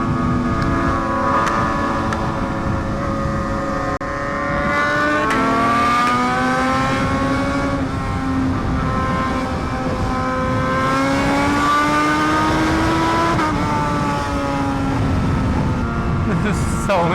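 A BMW HP4 Race motorcycle with a new full exhaust holds a loud, continuous, high-pitched engine scream, the pitch sliding up and down as it accelerates and eases off, close and unbroken for the whole stretch.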